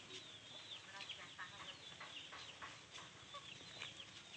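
Chickens clucking on a small Indonesian integrated farm where poultry such as chickens and ducks are kept as a sideline, a steady busy chorus of repeated clucks at moderate distance, no talk over it.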